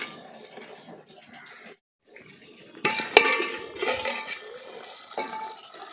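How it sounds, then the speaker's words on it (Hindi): A pot of chicken cooking as it is covered with a lid, soft stirring and scraping followed by a brief sharp metallic clink and louder rattling, near and moderately loud. "हम ढक देते हैं"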